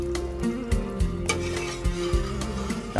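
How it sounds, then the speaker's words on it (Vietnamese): Corn milk is stirred in a pot as it comes to a boil. A spoon scrapes in steady, repeated strokes over a continuous bubbling sizzle, close and fairly loud, with no voices. "trong lúc nấu chờ cho nó sôi lên cho nó chín bắp á, mình cứ quậy cho nó khỏi nó đóng ở trong"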